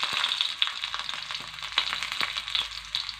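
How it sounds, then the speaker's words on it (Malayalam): Mustard seeds popping and crackling in hot coconut oil for a Kerala drumstick-leaf curry, a steady close sizzle dotted with sharp irregular pops throughout, no voices. "കടുക് പൊട്ടുന്നുണ്ട്."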